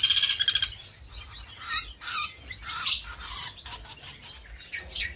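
Several birds chirp and tweet in quick bursts in an aviary, with a dense cluster of bright calls at the start and scattered calls after, fairly close, over a low background hum.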